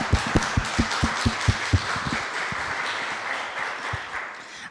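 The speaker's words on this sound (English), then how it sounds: "I do just want to give another big round of applause to every single person on the first panel" Applause for a first panel at an oral-history event, with a few sharp, close, rhythmic hand claps standing out over a steady crowd patter that thins and fades toward the end.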